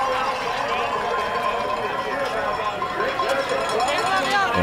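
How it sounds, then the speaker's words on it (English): Crowd noise from spectators lining a 10 km Paralympic cross-country ski course, a continuous murmur of cheering and calls in the distance, heard under a commentator's running voice. "And you can hear the crowd cheering her on."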